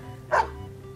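Benji the dog gives one short, sharp bark in the Tears of Themis video game, loud and close against a quiet background hum.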